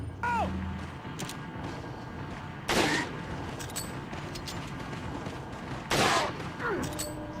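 Rifle gunfire from Resident Evil 4 cracks out in two loud, sharp single shots a few seconds apart, set against a low, busy in-game background.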